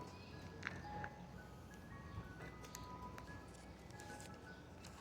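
A Mister Softee ice cream truck in Philadelphia plays its tinkling melodic jingle, faint and somewhat distant over low street background noise.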